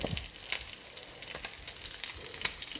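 Salted milkfish (bangus) fries in a pan with a steady, crackling sizzle, close and fairly loud, with small pops and spatters scattered throughout and no talking.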